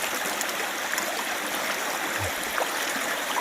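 Water flowing steadily through a sluice box set in a stream during gold prospecting in West Virginia, a soft continuous rushing and trickling wash heard close and fairly quiet, with no talking.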